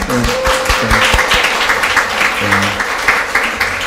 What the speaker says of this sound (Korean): 미리 축하 박수 합시다